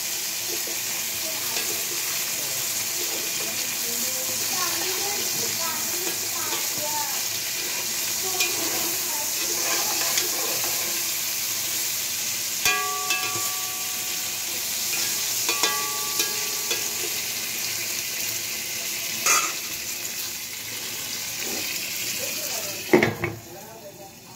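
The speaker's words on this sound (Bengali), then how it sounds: "আমার বেগুন ভাজি প্রায় হয়ে যাওয়ার মতন হয়েছে। আর কিছুক্ষণ ভেজে নিলে হয়ে যাবে।" Eggplant slices frying in a pan make a steady sizzle and crackle throughout, with occasional light clinks and stirring sounds and a sharper knock near the end.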